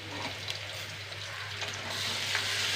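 Garlic fries in a hot pan for a Kerala-style curry, giving a steady, soft sizzle with a few light stirring scrapes, faint and close, with no talking.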